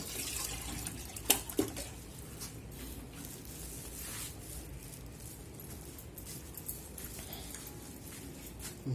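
Water runs steadily and faintly in the background, a soft continuous wash with a couple of brief clinks near the start and no voices.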